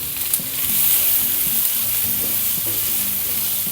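Two finely chopped onions hit hot oil, producing a steady, dense hiss of frying that stays even and close, with a faint low hum underneath and nobody talking.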